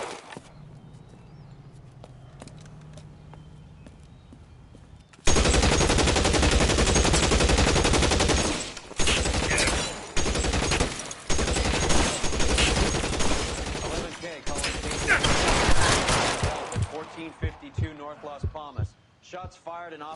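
Sustained gunfire in the LA Noire video game bursts in loudly after a quiet opening stretch, continuing as dense rapid shots with brief pauses, then tapering off as a voice speaks near the end.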